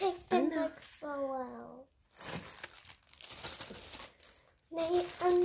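Crinkly plastic packaging rustles and crackles as a Bratte & Co. hair bow is unwrapped, in short close bursts between a child's and an adult's voices.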